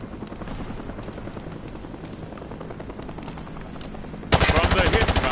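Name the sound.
gunfire from the hip in a video game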